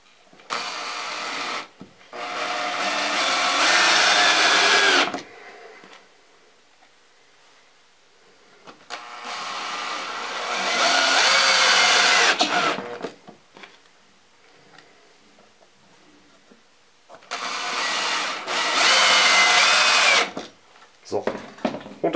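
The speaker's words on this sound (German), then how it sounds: "aber wir müssen bei denen definitiv vorbohren, weil uns das Ganze sonst missglückt" A power drill pre-drilling screw holes in a wooden armchair for hand puppets, three loud whirring bursts of a few seconds each separated by quieter pauses, heard close up.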